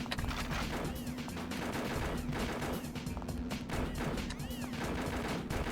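Rapid, dense gunfire from the arcade light-gun shooter Confidential Mission, continuous bursts of shots layered with game effects filling the whole stretch at steady loudness.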